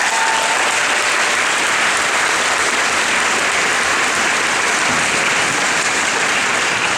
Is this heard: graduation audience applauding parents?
yes